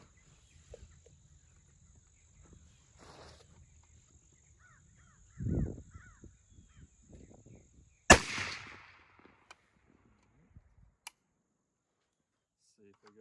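A single sharp, loud Springfield M1A Tanker rifle shot cracks out at close range in an outdoor setting, then rings off quickly, with a shooter talking quietly before and after.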